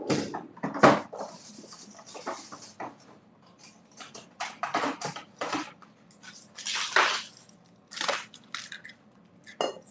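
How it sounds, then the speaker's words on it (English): Ice cubes are grabbed and dropped into a glass for a Rob Roy cocktail, giving a series of sharp clinks, clatters and rattles spread irregularly across the clip, close and fairly loud. "So let me grab some ice."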